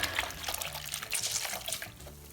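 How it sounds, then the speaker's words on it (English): A rag being rinsed out in a bucket of water while cleaning concrete off newly repaired floor tiles, giving a steady close sloshing and trickling of water throughout. "Clean your rag out in the water."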